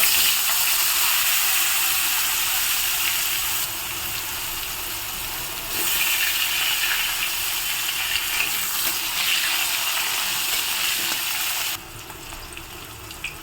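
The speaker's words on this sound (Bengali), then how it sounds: "ওই মাছের তেলের মধ্যে দিয়ে দিলাম জিরে ফোড়ন তার মধ্যে দিয়ে দেবো আলু" Cumin seeds and potatoes sizzle in leftover fish oil, a steady broad frying hiss that holds through the whole stretch with small shifts in level, close and fairly loud with no talk.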